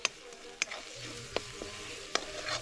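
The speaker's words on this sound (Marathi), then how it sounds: "जबरदस्त फोडणी तर छानपैकी झाली आहे" Whole spices tempering in hot oil for misal over a wood-fired stove, with a soft steady sizzle and a few sharp crackles and pops spaced through it, close and fairly quiet.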